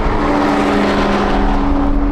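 Rolls-Royce Cullinan and Range Rover Sport SV in a drag race, a loud, sustained engine roar with a steady tonal drone, close and continuous.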